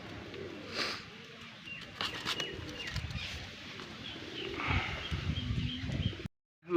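Domestic pigeons coo in low, throaty rumbles from a small home flock, several overlapping calls close by over a soft background hiss, with no talking.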